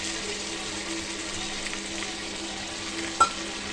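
Mutton sizzles steadily in a pan with ground coriander and dried chilli being stirred in, giving a constant frying hiss with soft scraping. A single sharp clink of a utensil comes near the end.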